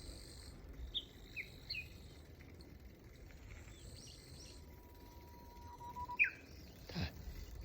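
A bird, likely a magpie robin, sings from some distance in a green rural village outside Gifu, Japan: short, sharp chirps and whistles scattered over faint insect buzz and quiet background.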